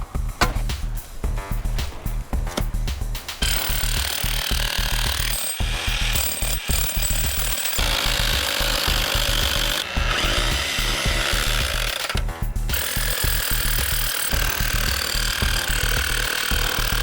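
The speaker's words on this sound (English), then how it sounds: "I was able to chisel away some concrete on the underside, chisel all through here" Concrete in a garage is chiselled and drilled with power tools, making loud continuous hammering and grinding with rapid percussive chatter, sustained across the whole stretch with brief pauses.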